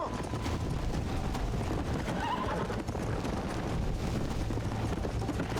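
A horse in the Red Dead Redemption video game gallops with steady clip-clopping hooves and whinnies, loud and continuous under a dense wash of game noise.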